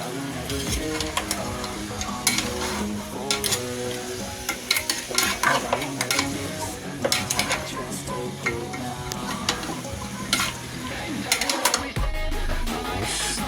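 Pork ribs sinigang gets stirred in a pot, with repeated scraping and knocking strokes over a low simmering hiss, close and irregular throughout.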